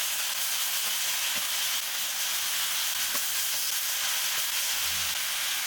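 Aubergine and courgette chunks for ratatouille sizzle steadily in a pan, a constant close hiss with a few faint taps from the stirring spoon.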